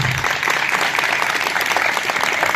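A church congregation at a night sermon breaks into dense, steady applause that fills the space evenly and loudly, with a brief low voice at the very start.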